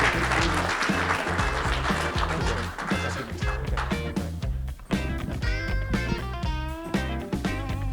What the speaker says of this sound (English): Please, a round of applause for Steve Johnson